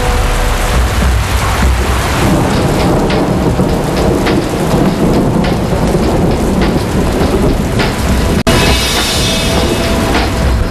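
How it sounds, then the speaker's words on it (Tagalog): A strong storm pours heavy, constant rain, with rumbling thunder throughout and a sharp crack near the end. "Dumaan lang ang napakalakas na bagyo."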